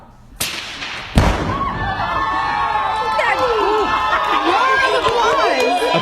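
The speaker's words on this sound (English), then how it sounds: "they could hear their explosion and feel the explosion 15 miles away from ground zero" At a family celebration, two sharp blasts go off a moment apart, the second heavier. A lingering rumble and a crowd of voices follow.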